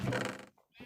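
A horse in the Minecraft video game gives a short, loud whinny that fades out, followed by a faint soft sound.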